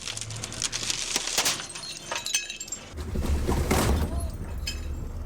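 Several sharp cracking, shattering bursts as bulletproof glass wheels on a vehicle break apart, over a rumbling engine or rolling noise, with scattered reactions in the background.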